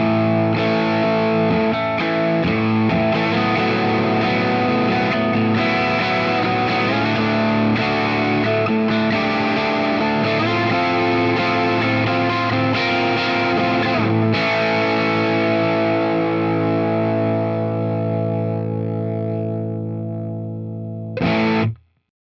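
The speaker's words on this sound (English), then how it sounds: "I also made a control preset, which is the British 45 amp with default settings" Electric guitar played through a Fender Tone Master Pro modeler on its British 45 amp model at default settings, giving a distorted, sustained tone that rings for about twenty seconds. It ends with a short final strum.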